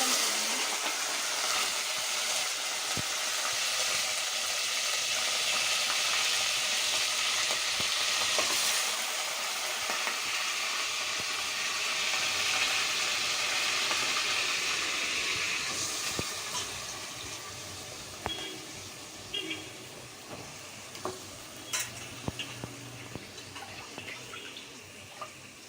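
Mutton, squeezed of its water, goes into a pan of curry leaves already crackling in hot oil, giving a loud, steady frying hiss that gradually settles into softer, sparser sizzling and pops near the close.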